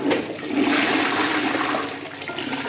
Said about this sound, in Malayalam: ഇനി നമുക്ക് ഫ്ലഷ് ചെയ്തിട്ട് നോക്കാം.